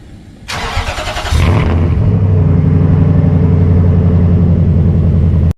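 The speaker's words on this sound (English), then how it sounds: "Remote start." A Titan pickup truck remote started: a short cranking whir, then the engine catches and settles into a steady, loud idle rumble close by, cutting off abruptly at the end.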